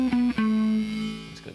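A Red Witch Synthotron synth pedal on electric guitar gives a few short, buzzy synth notes, then one held note that slowly fades, played alone.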